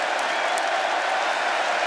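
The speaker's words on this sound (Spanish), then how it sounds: "¡Wow! ¡Qué ovación, Dios mío! ¡Y qué bien merecida!" Loud, sustained applause and cheering from a large arena crowd at a wrestling event in Cardiff, Wales, a continuous dense roar of clapping with no pause.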